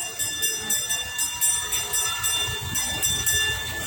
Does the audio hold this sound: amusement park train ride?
yes